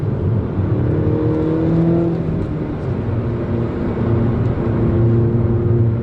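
A John Cooper Works Mini Roadster on a road test, its engine droning steadily and strongly from inside the car as it accelerates up a stretch of road, with a rising tonal hum and constant road noise and no talk.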